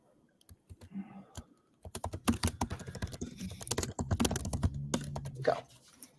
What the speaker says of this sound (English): because I'm typing still.